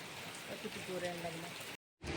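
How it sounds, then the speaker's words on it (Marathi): Heavy rain pours steadily in a continuous wash of noise, then cuts out briefly before resuming; a voice speaks over the downpour. "आता तर खूप जोऱ्यानं लागलाय पाऊस"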